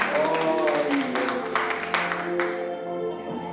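A church congregation claps for the Lord in scattered, uneven bursts, mixed with sustained voices that may be singing or calling out.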